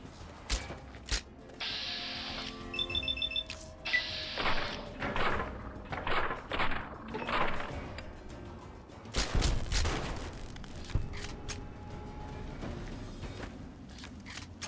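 Gunfire from weapons in Fallout: Tale of Two Wastelands, with a series of sharp shots spread across the scene, mixed with clanking mechanical game sounds, at moderate loudness.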